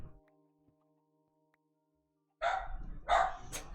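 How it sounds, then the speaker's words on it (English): A dog barks loudly and close in two sharp bursts after a quiet stretch with a faint steady background hum. "He's still barking."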